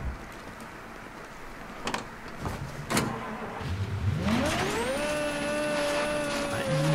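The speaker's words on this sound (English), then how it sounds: "This car now all of a sudden sounds terrible. It has like supercharger going on." A car engine in Mafia 3 starts low after a few thuds and clicks, then climbs into a rising revving drone topped by a high, thin supercharger whine that holds steady and loud to the end.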